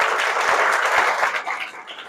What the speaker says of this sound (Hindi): मैं चाहता हूं कि आप सभी के लिए एक बार जोरदार तालियां हो जाए फिर से